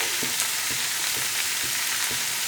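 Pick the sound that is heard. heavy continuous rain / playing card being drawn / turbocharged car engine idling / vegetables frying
vegetables frying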